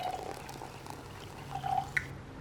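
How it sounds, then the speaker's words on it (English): Wine trickling from a bottle into a glass, a faint liquid pour with small drips and a light clink near the end, quiet and close with no talking. "Go ahead and get up, get your glass of wine. While I wait, I pour me a little bit more"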